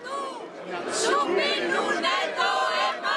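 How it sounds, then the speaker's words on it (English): Crowd of a few hundred protesters gathered outside the European Commission to march for a no vote in a referendum, a steady murmur of many voices with chatter and occasional raised calls, fairly close and continuous. "a crowd of a few hundred people had gathered outside to march in support of the no vote"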